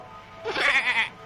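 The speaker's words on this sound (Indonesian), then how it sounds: "Oh, kambing lucu." A cartoon goat lets out a single wavering bleat, loud and close, about half a second long, with quiet surroundings.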